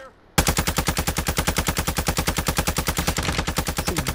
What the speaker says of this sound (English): See bullets flying every goddamn where?